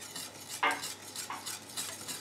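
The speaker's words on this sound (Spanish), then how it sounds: "les vamos a agregar el vasito con la cuajada. Y seguimos mezclando hasta que espese." A spoon stirs melted chocolate mixed with a small cup of curd dessert mix, thickening for a no-bake two-chocolate cake, giving soft scraping and light clinks against the bowl in a brief, close, steady sequence.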